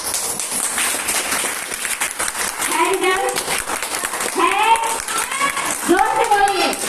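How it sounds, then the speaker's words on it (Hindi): A seminar crowd in Dhanbad claps loudly in scattered bursts while children and adults shout and talk over the clapping. "तो प्लीज जोर से ताली बजाइएगा।"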